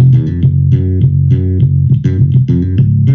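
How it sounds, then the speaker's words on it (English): Palm-muted bass guitar tone, one of two layered basses in a music production, plucking short, dampened notes in a steady groove, loud and up front with no voices. "And the second one has a muted bass tone that sounds like this."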